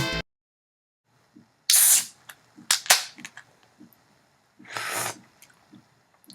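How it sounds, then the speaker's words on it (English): A can snaps open with a sharp crack and fizzing hiss, followed by clinks and small handling sounds, then another brief hiss of spray. "That was me cracking open a cold one"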